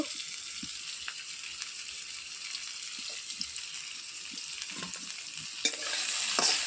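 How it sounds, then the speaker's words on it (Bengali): Chopped onion fries in hot oil in a pan over a clay stove, giving a steady, faint sizzle broken by occasional soft stirring clicks. "তারপরেই তেল গরম হয়ে গেলে তাতে পেঁয়াজ কুচি দিয়ে দেব।"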